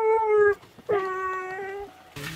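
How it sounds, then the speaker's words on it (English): A dog whines and howls in two drawn-out, rising and falling cries, close and fairly loud, while another dog holds its bone, with a brief rustle at the end. "are you noisy because Akela has your bone"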